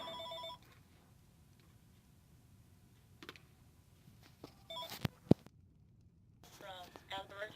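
An indoor telephone rings faintly in short harmonic bursts at the start and end, with scattered clicks and knocks in the quiet between.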